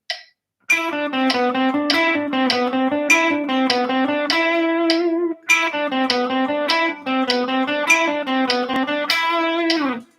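A distorted electric guitar plays a fast line of evenly alternate-picked single notes at a steady 100 bpm, loud and close, with one brief pause midway.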